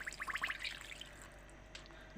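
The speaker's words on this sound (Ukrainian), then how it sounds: "і заливаємо холодною водою" Cold water is poured into a pot of cabbage rolls made with beet leaves, a short burst of splashing and trickling followed by quiet drips and a sharp knock at the end.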